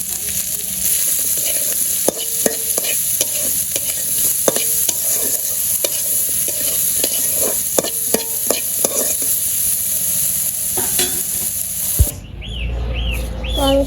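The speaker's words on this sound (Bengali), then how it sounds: "আমি পেঁয়াজগুলা দিয়ে দিই। পেঁয়াজগুলা ভেজে নামিয়ে নেবো।" Onions sizzle in oil in a pan just emptied of fried dried fish, with repeated scraping and clinking stirs over steady frying. Birds call faintly in a village setting, and a clatter near the end cuts the sizzle.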